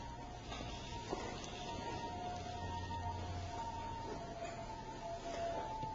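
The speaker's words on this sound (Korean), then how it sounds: "지금 사이렌 소리가 들리는데 어떤 소리 같습니까?" A wailing siren rises and falls steadily at moderate distance, with faint background rumble and no speech.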